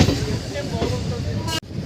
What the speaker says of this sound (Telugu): మళ్ళీ ఇప్పుడు 2 o'clock కరెక్ట్ రైట్ టైంకే నడుస్తుంది ట్రైన్ అయితే ప్రస్తుతానికి